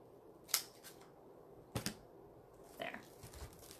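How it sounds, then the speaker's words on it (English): Several sharp, separate snips while cutting wreath material for a 4th of July rail decor, close and fairly quiet against a soft background hush. "let me cut it first. Because when I cut it, it'll be just to be a lot easier to work with."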